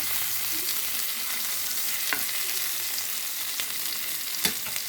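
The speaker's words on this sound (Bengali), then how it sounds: "কই মাছ ভাজি করলাম একটুখানি সরিষার তেল দিয়ে।" Koi fish fries in a little mustard oil, crisping in the pan with a constant soft crackling sizzle and a few sharper pops, heard close and alone with no talking.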